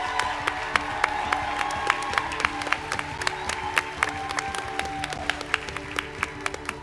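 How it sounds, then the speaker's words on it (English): Audience applause at a student ambassadors' sports initiative pitch event, a steady roomful of clapping with distinct individual claps, moderately loud and continuous. "Let's give them a round of applause"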